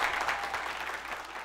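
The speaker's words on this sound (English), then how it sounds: "A round of applause for these people." An audience at a televised talent show applauds in a dense, continuous wash of clapping that holds steady and fairly loud throughout the short moment.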